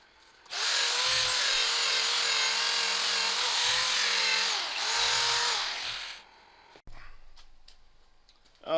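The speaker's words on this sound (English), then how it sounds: "So let's go on with this sanding." Steady, continuous power-sanding against the outside of a hand-carved wooden Viking bowl, a loud sustained whir with a slight dip midway, then stopping abruptly, followed by a few faint handling knocks.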